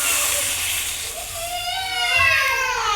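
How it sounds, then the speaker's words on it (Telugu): Water poured into a hot pan of potato curry hisses and sizzles steadily, a broad close steam hiss with rising whistling tones as it boils up, heard alone without talk. "వాటర్ పోసుకుంటున్నాను."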